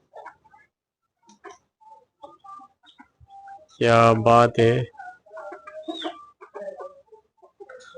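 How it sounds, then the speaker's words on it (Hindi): A hen and a rooster cluck in short, scattered bursts at a farmyard, with someone briefly talking over them partway through. "ये रहा हमारा मुर्गी और मुर्गा"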